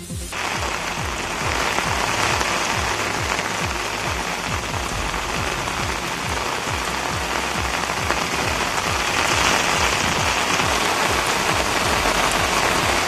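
Heavy monsoon rain pours steadily in Kodagu district, a dense, even roar of drops on surfaces that holds loud and unbroken throughout, with no voices.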